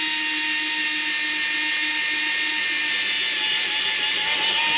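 A Fanttik L1 Pro 3.7V cordless power screwdriver bores slowly through a 3/8 inch hole, its high, steady whine of motor and bit grinding holding on continuously and loudly with no talk.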